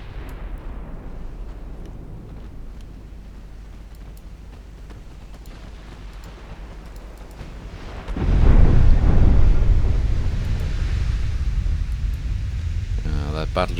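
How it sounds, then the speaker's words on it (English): A heavy 14-inch shell strikes a warship in the naval battle game Ultimate Admiral Dreadnoughts, a sudden loud booming impact that swells and then rumbles on over low background noise, with faint talk underneath. "Say as I take a pretty big 14-inch hit."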